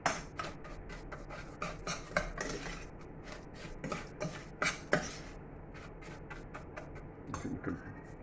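Spoon scraping and clinking against a bowl while bran flakes are stirred into melted chocolate, a run of sharp irregular taps and scrapes, close and fairly loud, with no talk.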